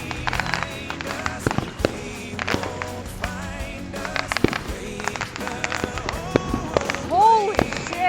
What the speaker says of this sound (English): They're really going.